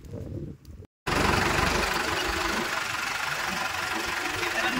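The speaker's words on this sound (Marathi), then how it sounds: "आता हे ट्रॅक्टर आहे, आता घरी निघालेलं" A tractor engine running with a steady, loud knocking rumble close by on a farm, after a brief muffled stretch and a moment of silence.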